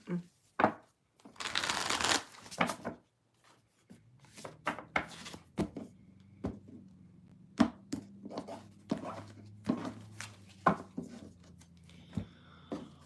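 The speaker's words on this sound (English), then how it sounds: "Only 2 more decks to shuffle." Playing cards are shuffled and riffled nearby, a rapid fluttering burst followed by repeated taps and snaps of the deck as it is squared.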